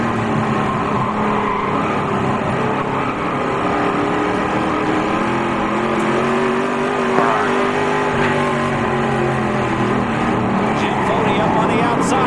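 Race cars roaring off at the green flag for a 30-lap short-track race, a loud sustained engine drone with rising revs, heard from the stands with a commentator talking over it.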